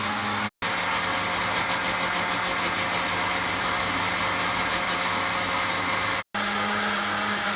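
An electric blender whirs steadily and loudly, blending garlic toum sauce as olive oil is slowly added. The motor drone runs continuously and briefly cuts out twice.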